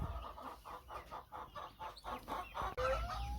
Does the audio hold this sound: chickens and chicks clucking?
yes